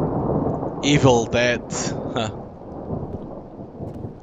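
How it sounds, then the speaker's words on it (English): A rumbling thunderstorm with rain in the horror video game Lost Alone Ultimate, a broad low roll under steady rain noise while someone talks briefly over it. "It's only thunder."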